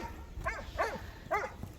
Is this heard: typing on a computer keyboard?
no